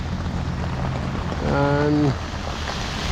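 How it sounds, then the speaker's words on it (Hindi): Heavy rain pours steadily around a motorbike on a mountain ride toward Chanshal, a constant dense hiss with a brief tonal voice-like sound rising midway. "बारिश आ गई बहुत तेज़"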